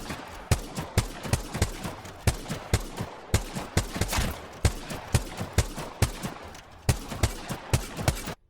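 A G7 Scout rifle fires on a firing range in the video game Apex Legends, loud close semi-automatic shots in quick, even clusters of two and three with brief pauses between them.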